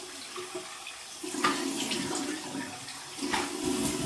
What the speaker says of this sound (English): Okay, that was my warm water rinse.